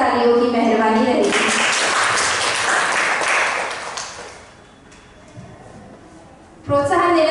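An audience claps at a poetry recitation contest in Nagpur, a dense burst of applause that swells then fades out, framed by a host speaking before and after.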